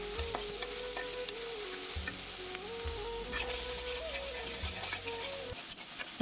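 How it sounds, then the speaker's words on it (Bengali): Onion fries in a pan with green chilli and salt, a soft, steady sizzle under rhythmic scraping stirs and a faint tonal hum in the background. "এভাবে আমি পেঁয়াজটা ভালোভাবে ভেজে নিলাম"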